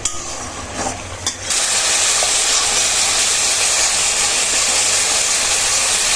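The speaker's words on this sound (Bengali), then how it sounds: "এখন এইটা মশলাটা একটু কষিয়ে নেব" Spice paste stir-fried in a pan for a Bengali dal chorchori, a loud continuous sizzle and hiss close up after a brief quieter start with a couple of stirring scrapes.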